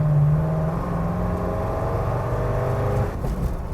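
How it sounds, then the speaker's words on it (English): A 1950 car billed as an early production muscle car accelerates hard, its engine giving a loud, steady rising roar heard from close by for several seconds before easing off near the end. "That was actually incredible for a 1950 car, a 76-year-old car, to accelerate like that"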